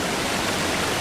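Water rushing in within the Exit 8 video game, a loud, dense, unbroken gush heard alone for about a second.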